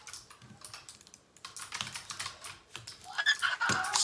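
Rapid, loud clatter of computer keyboard typing during a console game session, irregular bursts of keystrokes that grow denser and louder toward the end, close to the microphone with no talk.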